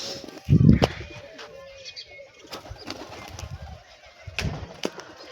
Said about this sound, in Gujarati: દેશી કબૂતરું આવી ગયું છે